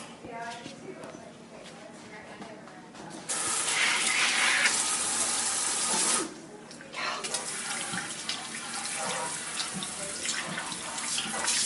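A kitchen tap runs full force into a sink during rinsing, a steady close rush of water that starts abruptly, holds for a few seconds and cuts off, with lighter splashing and handling noise around it.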